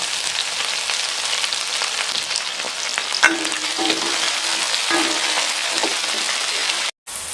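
Onions, garlic cloves and chopped spring onions fry in a pan for a sweet potato dish, giving a steady close crackling sizzle with occasional stirring scrapes and a brief cut near the end.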